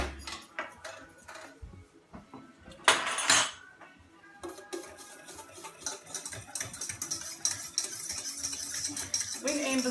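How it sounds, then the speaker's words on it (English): A fork whisking in a bowl while making hot cross buns, giving quick rapid clinking taps against the bowl after a few scattered clatters of utensils and dishes, close and moderately loud. "Give Amber a little fork ready to whisk it."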